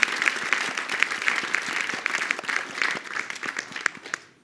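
An audience applauds panelists at the close of a panel discussion. The clapping is sustained and crisp with distinct individual claps, fairly close, and it fades slightly toward the end.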